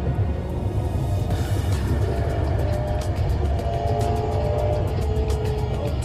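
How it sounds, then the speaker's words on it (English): A Honda Civic Si's K20 engine drones loud and continuous at highway speed, a steady deep rumble mixed with road and wind noise, with no talk. "Let me rev out this K20, baby."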